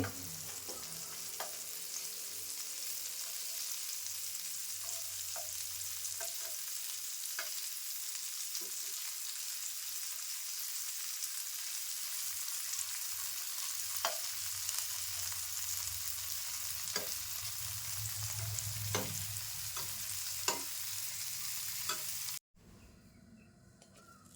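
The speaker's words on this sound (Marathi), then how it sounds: "आता एका साईडने भाजली आता परतून घेते" Clams sizzle in a pan Malvani style as they are turned and stir-fried, a steady crackling fry with scattered scrapes and clicks from stirring, cutting off abruptly near the end.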